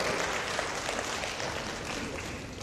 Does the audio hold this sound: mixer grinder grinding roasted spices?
no